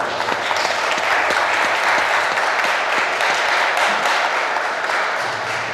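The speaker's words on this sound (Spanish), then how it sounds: "Vamos a darle un fuerte aplauso." A congregation at a quinceañera Mass in San Agustín Oapan gives a sustained round of applause, dense and steady clapping from many hands throughout, with no speech over it.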